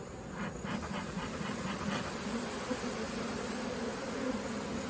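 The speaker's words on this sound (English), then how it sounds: "Oh, those bees are keeping, man. They are just going after them." Honey bees swarm around a hive as they go after beetles, a dense steady buzzing hum of many insects holding close and even throughout, with no talk over it.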